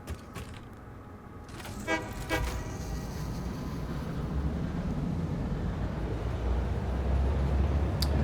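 A train running in Satisfactory, with a steady low rolling rumble that grows louder over several seconds, preceded by a couple of sharp horn-like toots and creaks near the start.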